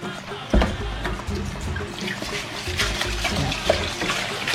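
Rice being rinsed under a running kitchen tap for Ghana jollof rice, a steady close splash and trickle of water with small clinks throughout.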